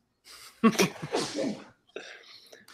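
A single sharp sneeze up close, followed by a short breathy exhale and a faint murmur.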